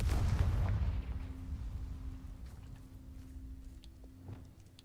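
Hogwarts Legacy's Confringo spell detonates in a heavy, booming blast right at the start, its low rumble slowly decaying over several seconds with a faint steady hum and a few soft pops behind it.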